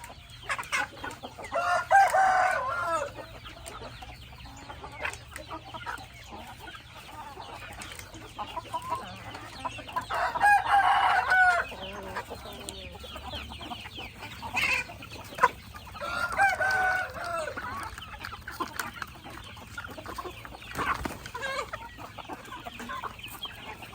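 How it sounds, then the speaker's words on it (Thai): Backyard chickens being fed a mixed feed with vitamins, with hens clucking throughout and roosters crowing three times, fairly near, over steady barnyard background noise and no talk. "น้องไก่"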